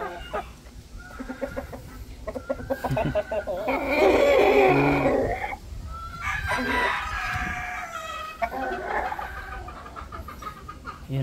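Rhode Island Red chickens crow and cluck up close, with a loud drawn-out crow near the middle and busy overlapping clucking and squawks throughout, faint farmyard background beneath.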